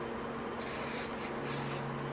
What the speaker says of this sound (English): All I do is I spray them down with some